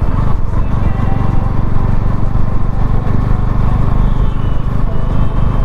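A Bajaj Pulsar NS motorcycle on a test ride after engine work, with a reported piston knock, drones loudly and steadily at close range with no letup and no talk.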